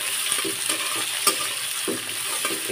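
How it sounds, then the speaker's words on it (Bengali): Chopped onion, green chilies and bay leaves fry in a pan with a steady, bright sizzle, broken by repeated scraping stirs and one sharper clatter midway; no voices. "আর দিয়ে দিলাম পেঁয়াজ কুচি। এগুলো এখন সুন্দর করে ভাজি করে নিতে হবে।"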